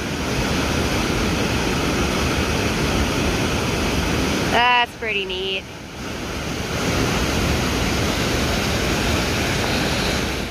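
A steady, broad roar of a waterfall plunging into a canyon on the Kungsleden trail fills the clip, with a voice briefly speaking partway through.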